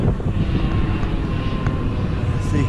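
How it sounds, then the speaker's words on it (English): Airbus airliner flying over the Isles of Scilly coast, a steady broad low engine roar that holds constant and fairly loud throughout, with faint wind and outdoor noise mixed in. "That's the local Airbus to the Isles of Scilly."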